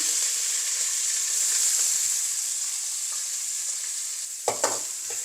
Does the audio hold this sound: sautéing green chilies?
yes